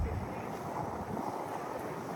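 Strong wind blowing outdoors at a barbecue cooking demonstration, a steady loud broadband rush buffeting the microphone for the whole stretch with no pauses.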